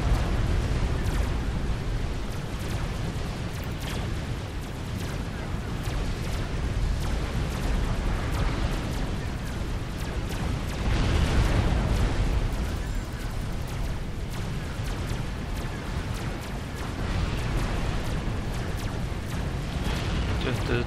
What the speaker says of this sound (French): Vous voyez, c'est vraiment une petite explosion par rapport à...